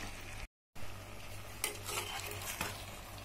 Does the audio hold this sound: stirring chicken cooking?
yes